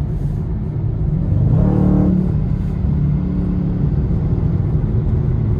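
A Dodge Charger Scat Pack in traffic gives a loud, steady engine rumble that rises in a brief rev surge near the two-second mark, then settles into a sustained drone.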